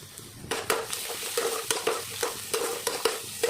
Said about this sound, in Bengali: এখন দিয়ে দিচ্ছি কুচনো পেঁয়াজ। এটাকে অল্প লাল করে ভেজে নেব।